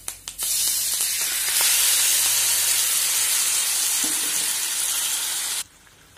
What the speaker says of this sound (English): The mustard seeds are crackled, in goes the curry leaves, and now let's add this.